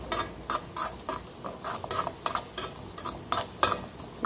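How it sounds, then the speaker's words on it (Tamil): Raisins and nuts stirred and roasted in a pan for payasam, giving a steady close sizzle broken by regular scraping strokes of the stirring spoon, with no talk. "ரெண்டுமே நல்லா வறுபடணும், அப்போ தான் ரொம்ப சூப்பராக இருக்கும்."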